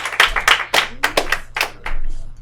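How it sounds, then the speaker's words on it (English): A comedy club audience claps for a comedian in a short burst of loud, close handclaps with uneven rhythm, trailing into a brief smoother patch of applause at the end. "Give a round of applause to KJ Whitehead"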